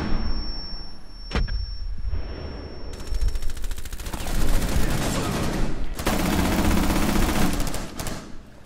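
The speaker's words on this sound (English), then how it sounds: "I think they're shooting in front of us" Sustained automatic gunfire rattles in a Rainbow Six Siege match, with a sharp single shot early on, then long dense bursts that continue loudly almost without pause.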